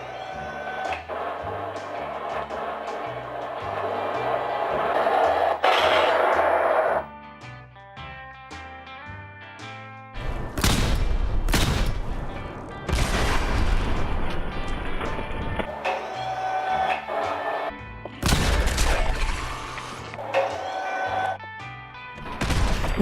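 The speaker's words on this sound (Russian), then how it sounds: "При нажатии курка пушка заряжается, при отпускании происходит громкий выстрел, точно так же, как в игре" Homemade replica of the Fallout 76 Gauss gun: a rising electronic charging whine followed by loud, crashing firing bursts, repeated several times with sharp broadband blasts and no talking.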